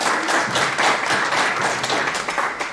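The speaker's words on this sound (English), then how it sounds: "Okay, a round of applause." An audience at a parents' mental health conference gives a round of applause, a steady wash of many hands clapping at moderate volume, rising slightly and then thinning toward the end.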